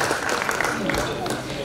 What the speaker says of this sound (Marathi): तर आपण सर्वांनी टाळ्या वाजवून त्यांचा वाढदिवस साजरा करूया